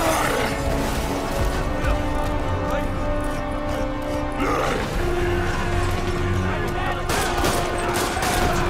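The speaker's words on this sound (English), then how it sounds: "Snipers are firing on officers." Sniper gunfire at police officers in the video game Marvel's Spider-Man: scattered sharp shots and mechanical clatter ring out over a continuous bed of tonal game music and ambience.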